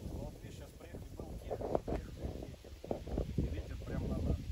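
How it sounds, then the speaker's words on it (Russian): Gusty wind buffeting the microphone in low rumbling bursts, close and steady, with a voice talking faintly underneath, outdoors on a fishing trip. "ветер, и ветер прям на нас"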